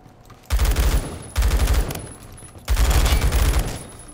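Automatic gunfire from a G36 rifle in the Roblox shooter Phantom Forces, three loud, sustained bursts of rapid shots, each about a second long, separated by brief pauses.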